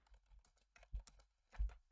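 Soft keystrokes sound on a computer keyboard, a quick irregular run of light clicks with a few heavier taps, faint and close, with no talking.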